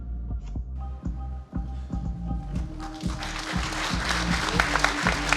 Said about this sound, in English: another big warm round of applause for their incredible work